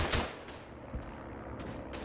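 Bursts of machine gun fire from the First World War shooter Verdun, short sharp rattling volleys that repeat through a steady, noisy battlefield background, with no talking over them.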